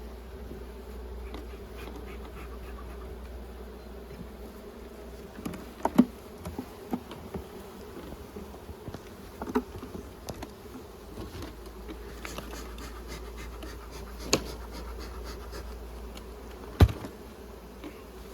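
Carpathian honeybees at an overwintered nuc hive, a low steady buzzing hum with occasional louder bees flying close past and faint knocks from hive handling.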